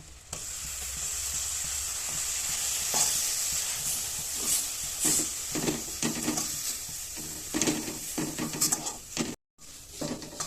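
Coconut filling cooked with caramel and water in a pan for dudh puli, sizzling steadily while a spoon scrapes and stirs in repeated strokes, close and moderately loud.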